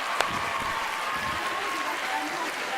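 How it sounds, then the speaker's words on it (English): An audience at a science festival opening gala in South Africa applauds, a dense continuous wash of clapping that holds at an even level, with a faint voice over it. "Give yourselves a round of applause!"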